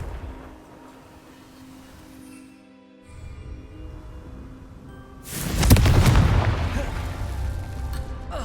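A Confringo blasting spell detonates in Hogwarts Legacy, a sudden loud boom with a crackling burst that rolls into a sustained rumbling tail, rising out of quieter game ambience.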